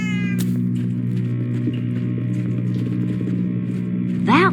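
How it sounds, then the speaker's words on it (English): Cat meowing in the video game Minecraft Story Mode, a rising, whiny meow near the end, loud and close, over a steady low hum of game music and background ambience. "there's where the meowing's coming from"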